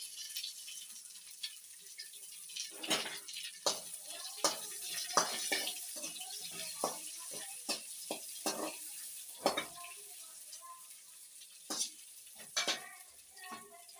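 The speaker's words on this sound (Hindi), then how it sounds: "प्याज को ब्राउन कलर होने तक उसको छोड़ देंगे।" Onions frying in a pan give a steady, soft sizzle, broken by frequent light clicks and scrapes of stirring, close and with no talking.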